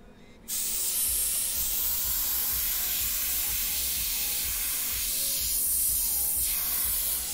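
An airbrush sprays a steady, close hiss of air while paint goes onto cornhole bags, starting abruptly after a brief quiet moment and running continuously to the end.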